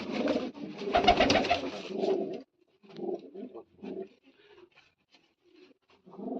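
Pigeons coo in low, throaty bursts, one loud and close at first, then softer intermittent coos with short pauses between them.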